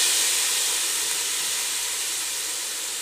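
Diced yellow onion sizzling in a tablespoon of hot vegetable oil in a pot over just under medium heat, a steady bright hiss that fades slightly, with no voices.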